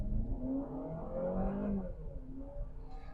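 A 2024 Honda CR-V Hybrid with an eCVT revs up hard at full throttle, a rising whirring drone with shifting pitch, moderately loud from inside the vehicle.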